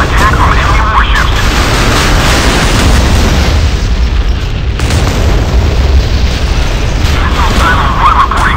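Missile launches and explosions aboard warships in the naval combat game Modern Warships: heavy booming blasts and rushing roars, loud and close, rising and falling in waves over a constant low rumble.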